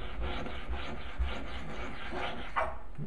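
An amateur telescope mirror is ground by hand with abrasive grit against a tool, giving close, rhythmic back-and-forth rubbing and scraping strokes with a faint gritty rasp.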